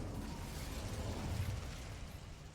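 A rushing, crackling fire burst from the Incendio spell in Hogwarts Legacy, a dense low roar that swells and then eases off over a couple of seconds, with no voices.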